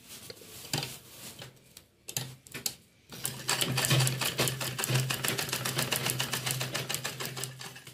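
A sewing machine stitches a homemade travel bag: a few short clattering bursts at first, then a fast, steady run of rapid needle taps, close and fairly loud, with no talk.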